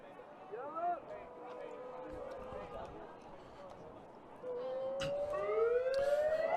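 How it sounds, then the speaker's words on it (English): A long rising siren signaling the start of the game clock wails out over crowd noise and chatter at an open semi-final match, steady and loud through the second half. "As the siren goes to indicate the start of the game clock"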